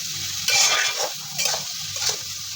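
Potatoes fry with a ginger, garlic, onion and green chili paste in a pan on a gas stove, giving a steady sizzle broken by a few louder bursts of stirring and scraping, with no voices.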